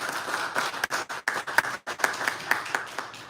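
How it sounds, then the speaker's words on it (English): An audience at the Cameroon Schools Debate Championship national finals applauds, a patter of distinct hand claps in quick irregular bursts with brief gaps, fairly close and crisp. "A round of applause for the governing team."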